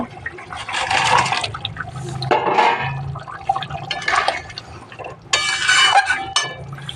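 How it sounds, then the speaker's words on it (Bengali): Fried pangas fish pieces go into a boiling curry broth in several loud watery bursts of splashing and bubbling, with clinks of a utensil against the pot between them. "ঝোলটা ফুটে গেছে, অনেকক্ষণ থেকে ফুটছে। এবারে মাছ ভাজাগুলো দিয়ে দেবো।"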